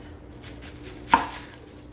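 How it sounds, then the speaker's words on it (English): A knife slicing the end off a white Vidalia onion on a cutting board, a single sharp chop near the middle of an otherwise quiet moment, close and clear. "So what I do is I cut both ends off"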